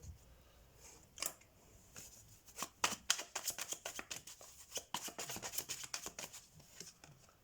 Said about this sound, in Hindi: रुकिए पहले मैं ना सारे कार्ड्स निकाल लेती हूँ